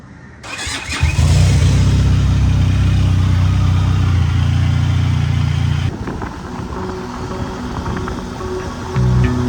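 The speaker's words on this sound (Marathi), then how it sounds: "पहिलं बाईक स्टार्ट करतो." A motorbike engine starts and idles loudly and close by, then settles into a steadier running note with some revving as it sets off at dawn.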